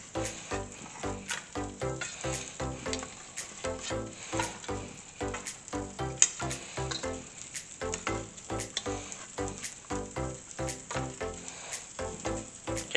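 Potatoes, onions and fajita peppers fry over Italian sausage in a skillet, giving a steady, moderately loud sizzle with frequent small crackles and pops throughout, with no talk.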